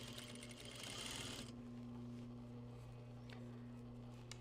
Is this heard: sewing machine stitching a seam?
yes